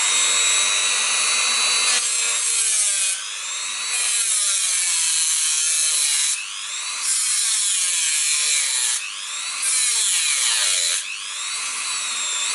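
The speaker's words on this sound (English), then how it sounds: "now I start my Dremel in here, and in here first cut" A Dremel multitool cuts through a hand brake cable with a high, harsh grinding whine that comes in long bursts, drops in pitch under load and recovers between cuts, loud and close with no talk.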